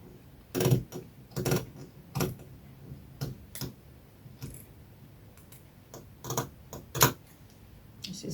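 Scissors snip through fabric while a bubu gown is cut out, a series of close, crisp, irregular cutting clicks with short pauses between them in an otherwise quiet room.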